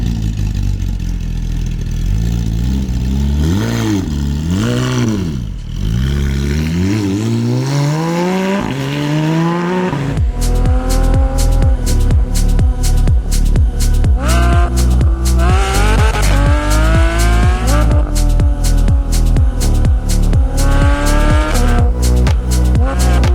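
A Porsche 991.1 GT3 RS driven hard sweeps its engine up and down the rev range, then fires off a rapid string of sharp upshifts and loud high-revving pulls, close and dominant with no voices.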